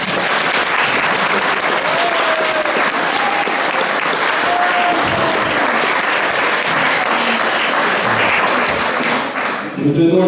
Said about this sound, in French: ça serait bien que tout le monde les applaudisse